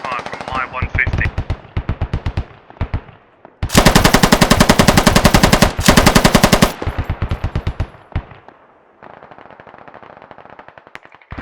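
Machine gun fire in the combat video game Squad, with loud, rapid bursts, some short and others long and sustained, plus a fainter rattling volley toward the end.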